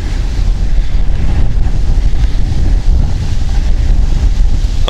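Strong wind buffets the microphone during a hoverboard ride uphill, a loud, continuous low rumble with gusty surges and no voices.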